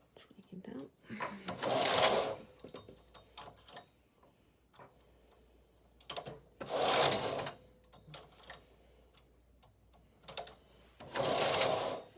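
Silver Reed knitting machine carriage sliding across the needle bed in three loud, rasping passes of about a second each, separated by quiet stretches with faint clicks and low talk.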